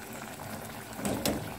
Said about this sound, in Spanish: ya cómo está hirviendo nuestra salsita